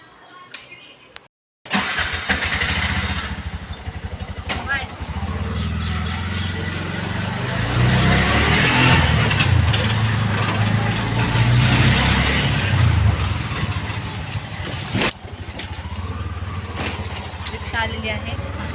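An auto rickshaw engine runs during a ride to the Tulshibaug market, a continuous close, rough mid-pitched rumble that swells and eases with the traffic, while people talk over it.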